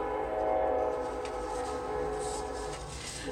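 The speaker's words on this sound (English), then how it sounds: "Of course the train goes by as soon as I start talking." A train rumbling past nearby, its long steady horn or whistle tones droning over the heavy rolling of the cars for the whole stretch, loud and close with no talking.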